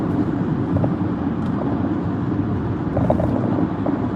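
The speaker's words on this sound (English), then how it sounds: "A lot of cars around me." Road traffic rumbling around a driver, a steady low roar of passing cars with faint wind noise, no speech over it.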